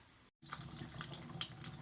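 Water poured from a tap into pancake mix with sprinkles sitting in a cooking pot, a close splashing and trickling stream after a brief silent gap, with no voices.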